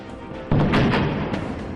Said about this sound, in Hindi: बम धमाका